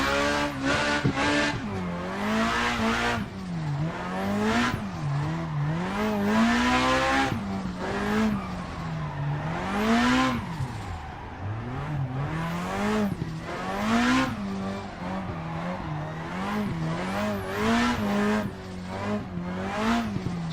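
Car in the Assetto Corsa racing game drifting with the handbrake, tires squealing in long wavering skids over a revving engine, loud and continuous with pitch sliding up and down through repeated slides.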